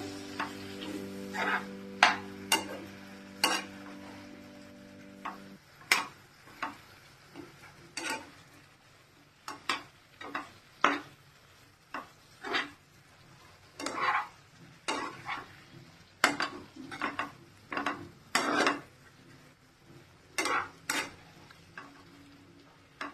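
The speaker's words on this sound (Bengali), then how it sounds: "এবার এটাকে ভালো করে মিক্সড করে নেব।" Garlic chicken is stirred and mixed in a pan, a spoon scraping and knocking against the metal in irregular bursts over a faint sizzle, close and alone, with a low steady hum early on.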